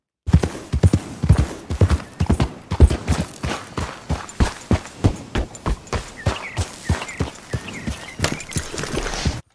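Horse hooves of a Brindle Thoroughbred clip-clop in a steady trotting rhythm in the video game Red Dead Redemption, close and distinct, continuing for several seconds.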